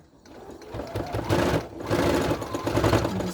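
A sewing machine stitches down the pleats on a fabric face mask, whirring close by in quick continuous bursts with a short pause partway through.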